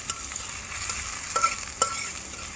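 Chopped onions with cumin and bay leaf frying in oil until brown, a steady close sizzle with faint stirring scrapes and no voices.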